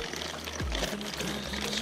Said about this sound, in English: Just get some water in it.